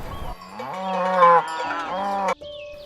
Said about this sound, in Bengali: বাছুরটা ডাকছে তার মা কুড়িকে